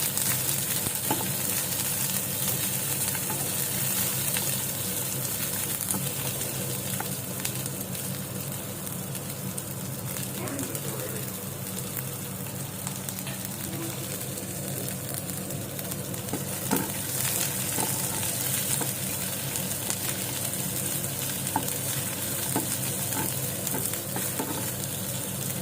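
Onions and tomatoes sizzle steadily in a hot pan, with a spoon scraping and stirring through the mix at intervals, close and continuous with no talking.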